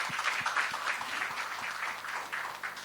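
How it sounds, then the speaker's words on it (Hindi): An audience applauds steadily and fairly close for a few seconds, a dense even patter of many hands clapping with no talk over it. "इस बात के लिए तालियां बजाई"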